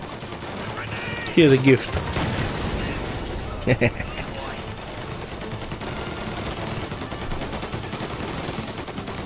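Shotgun blasts in Mafia Definitive Edition: a couple of loud, sharp booms in quick succession with a later pair of shots, over ambient game noise and brief speech.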